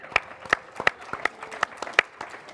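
Applause from the audience at a crypto investment summit: a thin run of sharp, evenly spaced claps, about three per second, fairly close and with little crowd noise behind them.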